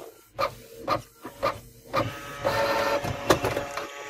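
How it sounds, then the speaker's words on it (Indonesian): A Canon G2010 inkjet printer with a paper-jam fault running a black photocopy test, rhythmic mechanical whirring and rasping pulses roughly every half second, then a denser grinding run, close by with no talking. "coba kita tes fotokopi ya fotokopi hitam aja untuk mengetahui bagaimana permasalahan printer ini"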